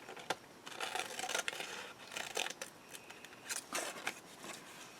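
Scissors cutting craft material for a display box, a quiet series of irregular snips and crisp paper-like crackles spread across the whole stretch, close by and faint.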